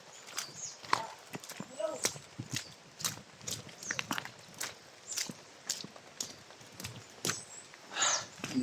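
A horse hauling a load of gravel, its hooves clip-clopping in an irregular walking rhythm nearby, with scattered scrapes and someone talking between the steps.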